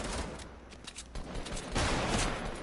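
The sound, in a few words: sniper rifle shot in a video game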